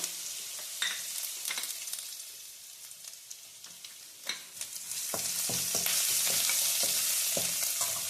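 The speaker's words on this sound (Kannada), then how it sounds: "ಹಾಗೆ ಶುಂಠಿನೂ ಕೂಡ ಸ್ವಲ್ಪ ಫ್ರೈ ಮಾಡ್ಕೊಳ್ಳೋಣ" Garlic and ginger frying in oil for veg Manchurian, a crackling sizzle punctuated by scattered stirring scrapes and taps, with the hiss swelling louder and denser toward the end.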